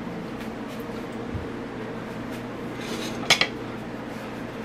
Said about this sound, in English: So we're going to go ahead and put our sunflower seeds in the pan.